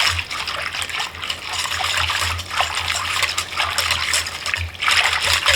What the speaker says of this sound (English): just gonna whisk that till it's well combined